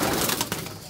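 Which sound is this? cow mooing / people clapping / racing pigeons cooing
racing pigeons cooing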